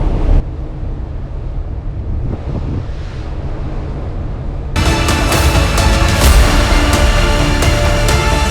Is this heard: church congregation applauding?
no